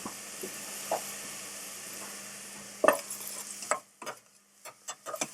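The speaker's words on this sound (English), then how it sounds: "And now I need to get a spoon to stir." A spoon stirs Tuscan ribollita in a pot over low heat, giving a soft background sizzle with scattered scraping clinks that grow more frequent toward the end, quiet and close.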